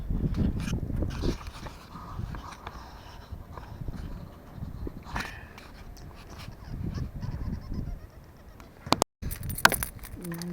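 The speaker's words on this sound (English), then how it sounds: "Got my keys to start her up." Keys jangling while someone gets ready to start a snowblower, scattered metallic clinks and rattles, near and intermittent, with voices and handling noises in between.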